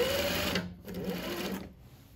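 A Juki industrial sewing machine stitches through denim fabric with a fast, close mechanical whir. It runs steadily, slows briefly and resumes before dropping off near the end, with no talk over it.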